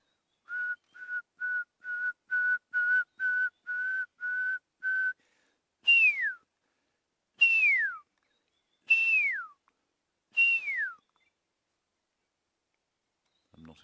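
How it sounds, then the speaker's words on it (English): Pearl-spotted owl calling at sunrise in the Sabi Sand bush, a series of about ten short even whistled notes followed by four longer descending whistles, clear and moderately close against near silence. "there's a pearl-spotted owl calling here"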